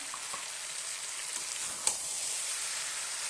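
Homemade ginger-garlic paste with turmeric, chilli powder and roasted spice mix fries quietly in a pan, a faint, even sizzle with one small clink of a spoon midway and no talking.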